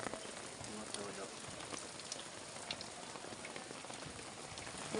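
Rainwater dripping and pattering at an outdoor court after a downpour, a steady dense hiss of drops with scattered sharper ticks throughout, fairly faint.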